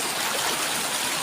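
Water of the Gomti river flowing past in a brief, steady rushing wash, close and unbroken.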